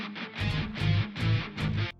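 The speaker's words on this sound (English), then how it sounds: "I added another bass on top of that, a synth bass, a little bit milder one, sounds like this." Mild synth bass layered over a djent-style drum and bass track, pulsing in a few rounded low notes under the distorted mix for about two seconds, with no speech.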